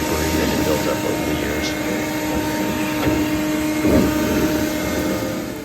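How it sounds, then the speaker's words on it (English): A vacuum cleaner sucks loose debris from inside the door cavity of a Porsche 914, its steady, loud whirring hum running unbroken, with someone talking over it. "Then I went ahead and hit the vacuum inside the door to get any of the debris that had built up over"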